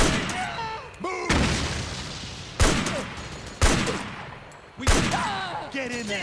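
Suppressive gunfire in the Metal Gear Solid 4 video game: several sharp, loud gunshot bursts spaced across the moments, with shouted voices and battlefield noise between them.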